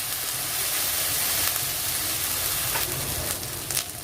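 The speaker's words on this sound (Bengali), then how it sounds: "দিয়ে ভালো করে এইভাবে মশলাগুলো ভেজে নেব, যাতে মশলা থেকে খুব সুন্দর একটি তেল ছেড়ে দেয়" Ginger paste and spices frying in oil for a Bengali bhola fish curry make a steady, close hissing sizzle with faint crackles and pops, heard on its own with no talking.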